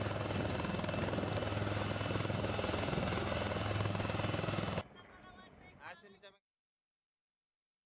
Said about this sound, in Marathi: हेलिकॉप्टरच्या साह्यानं लिफ्ट केलं जात आहे